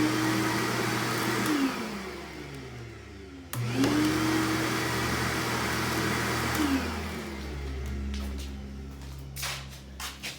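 A mobile dust collection cart vacuum motor runs loudly nearby with a steady high whine that shifts in pitch, drops briefly, then surges back up, followed by fainter rattles and knocks as it runs down.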